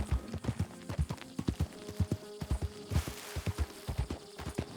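Horse hooves clip-clop steadily on the ground in Red Dead Redemption 2, a brisk, even rhythm of close hoofbeats over faint background noise, with no talking.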